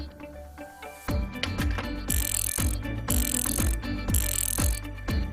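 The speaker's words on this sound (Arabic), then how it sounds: "Ratchet wrench" A toy ratchet wrench from a children's hand-tool playset gives a series of close, crisp plastic clicks in steady, repeated bursts after a brief quiet start.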